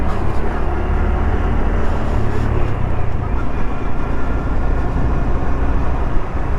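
A 2021 Honda Trail 125 motorcycle rides along in high desert country with a 14-tooth sprocket fitted, a steady loud engine drone mixed with wind rush that holds constant with no talking.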